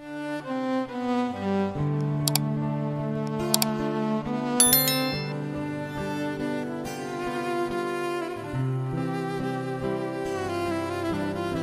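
A bright bell chime rings as a notification sound effect, with a few sharp dings over a steady musical backing that plays throughout.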